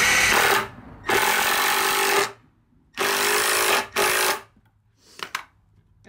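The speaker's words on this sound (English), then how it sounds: "I'm screwing in from the inside just that way you won't see the screws on the outside as much" A power drill drives screws into the wooden boards of a homemade dog bed, heard as three loud, close whirring bursts of about a second each with short pauses between, then a brief faint buzz at the end.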